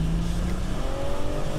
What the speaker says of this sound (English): It is a fast car.